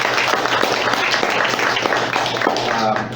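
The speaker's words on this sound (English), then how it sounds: "So if we can give these guys a round of applause." Audience applause at a meetup, a steady wash of clapping from a crowd filling the room, loud and continuous with some voices mixed in underneath.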